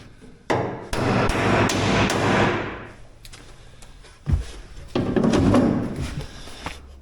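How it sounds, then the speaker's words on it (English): Repeated sharp hammer blows ring out on a metal car body panel, close and loud, in irregular bursts with a rattling, clanging resonance between strikes. "I'll bang it to metal."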